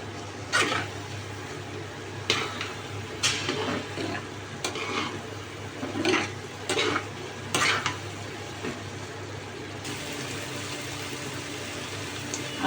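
A spatula scrapes and stirs bottle gourd with shrimp frying in a pan, a series of intermittent clattering strokes over a soft, steady sizzle.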